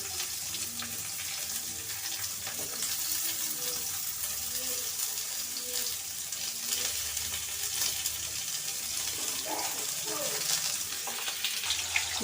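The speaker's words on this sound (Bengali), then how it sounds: "এবার এই তেলের মধ্যেই আমি বেগুনগুলোকে হালকা করে ভেজে নেব।" Eggplant pieces frying lightly in hot oil for Bengali shukto, a steady broadband sizzle that runs close and continuous with no talk over it.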